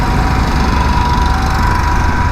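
A Hero XPulse 200 BS6 motorcycle engine runs loud and close while riding in the city, a steady buzzing drone with a thin whine and no clear gear change.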